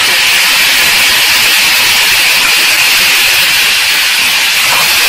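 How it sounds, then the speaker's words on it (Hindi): Marinated chicken hits a hot pan of ginger and garlic with a loud, steady hiss of sizzling that fills the whole stretch, close and continuous with no voices over it. "और इसमें अपना मैरिनेटेड चिकन डालिए।"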